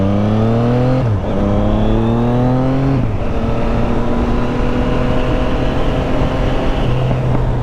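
A car engine idles and revs shortly after a cold start, a close, steady rumble with two pitch shifts as it settles, alone without talk.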